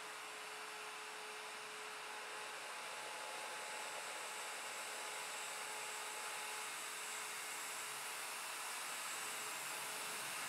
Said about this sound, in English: Lower the bit and start by climb routing clockwise without touching the guide pin to the guide